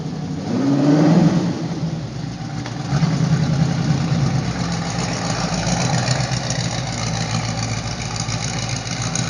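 A Ford Mark I race car engine revs loudly, its tone climbing early on and then settling into a steady, sustained roar.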